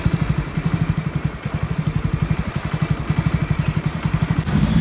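A motorbike being wheeled out of a parking area and started, its engine running with a steady, rapid low thudding idle, close and fairly loud throughout, with a brief rise in level at the very end.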